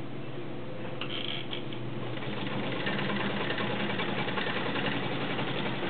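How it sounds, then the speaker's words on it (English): Vintage heavy duty 1.2 amp Kenmore Model 84 sewing machine stitching a cam-driven ball stitch, a steady mechanical whir with rhythmic knocking running continuously at close range, no one speaking. "Now we'll put in a cam. Your stitch width must be on 0 for the cam to work."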